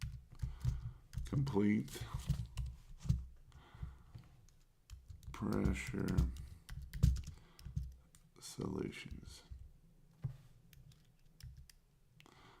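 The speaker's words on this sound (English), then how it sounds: "Sorry about that. I'm typing." Typing on a computer keyboard comes in uneven bursts of soft clicking keystrokes, close and fairly quiet, while someone talks over and between the typing.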